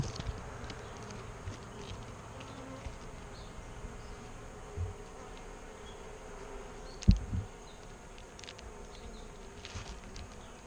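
Honey bees in a small mini nuc hive hum in a steady, low, continuous buzz, close by and fairly faint, with a couple of brief knocks breaking the drone and no talking.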